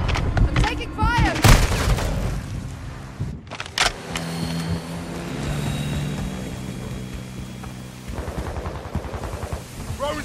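Gunfire in Modern Warfare 2 during a Hardpoint match on Pelaya's Lighthouse, with loud sharp shots clustered in the opening seconds, then a busy mix of game noise and engine-like drone as voices talk throughout.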